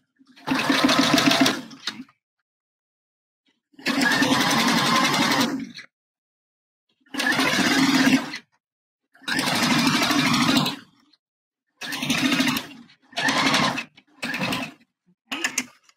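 A sewing machine stitches a bra cup seam in several bursts of whirring, the first ones long and the later ones shorter with quiet pauses between, heard up close with no talking.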